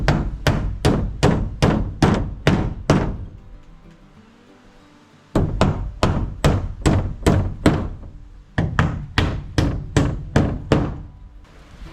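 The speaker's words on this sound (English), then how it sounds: "I'm going to have to go get the ladder to finish nailing this" Hammer blows drive nails into wooden siding on a motel building, sharp loud strikes in quick rhythmic bursts of about ten, then a short pause before more runs of strikes.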